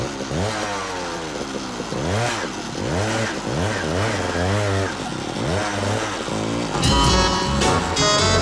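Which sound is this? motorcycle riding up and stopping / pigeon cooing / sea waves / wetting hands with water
motorcycle riding up and stopping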